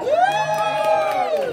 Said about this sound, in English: and that would get a big cheer.